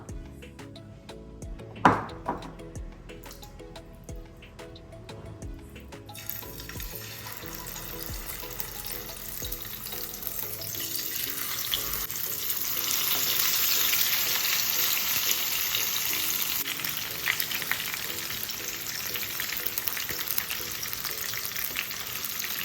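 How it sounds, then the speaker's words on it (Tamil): Marinated fish shallow-fries in hot oil, a loud crackling sizzle that builds after a brief clink, continuing steadily up close with no talk. "இப்போ ஆயிலில் போட்டு ஃப்ரை பண்ணி எடுத்துடலாம்"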